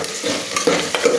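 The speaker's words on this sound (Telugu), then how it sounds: "ఇప్పుడు అల్లం వెల్లిగడ్డ పేస్ట్ ఇది కూడా ఇట్లా వేసి కలిపేస్తాము" Ginger garlic paste is stirred into sizzling chicken curry in a pan, with a couple of quick scraping spoon strokes over a constant close frying crackle.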